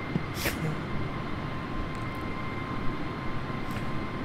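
An Airbus airliner in flight in Flight Simulator 2020 gives a steady, loud engine drone with brief clicks and ticks scattered over it, and faint voices appear now and then.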